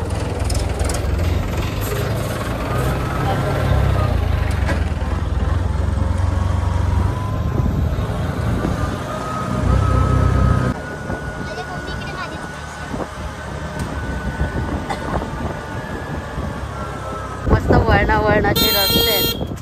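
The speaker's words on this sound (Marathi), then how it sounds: "आली रिक्षा आली" An auto rickshaw arrives on a winding green road in the Konkan, its engine running loud and low throughout, with a brief horn toot near the end while people talk over it.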